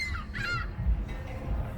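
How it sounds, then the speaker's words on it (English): A seagull by the Detroit River gives a couple of short, nasal honking calls over a steady outdoor rumble, close and moderately loud, no speech. "So we have our trusted seagull here"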